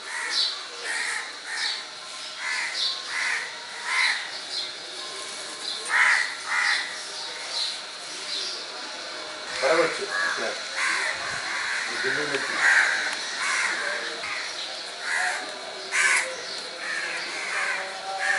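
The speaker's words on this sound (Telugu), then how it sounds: "చూడండి కాకులు ఎంత ప్రీతిగా తింటాయి" A group of crows caw repeatedly and overlapping while eating food, fairly close, with a constant outdoor hiss and brief fluttering in between.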